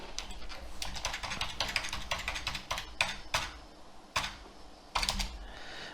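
Rapid clicking on a computer keyboard as commands are entered, a steady run of close keystrokes with brief pauses and a couple of louder key hits near the end, with no talking.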